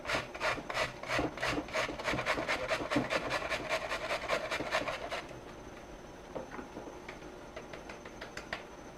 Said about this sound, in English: we're going to grate this cauliflower down.